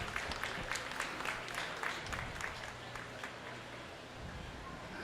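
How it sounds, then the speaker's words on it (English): Crowd applause for kids showing Holstein steers at a county fair beef show, distant and fairly faint clapping that continues steadily in a large open space. "We can give these kids a round of applause for bringing this Holstein steers in."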